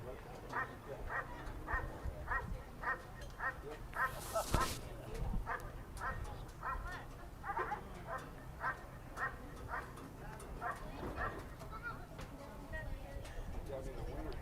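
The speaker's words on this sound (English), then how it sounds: "Barking started right away and is rhythmic, but the judge may want more intensity." A dog barks in quick rhythmic bursts during a USCA protection trial at a working dog championship, steady and repeated throughout. A commentator's voice runs underneath.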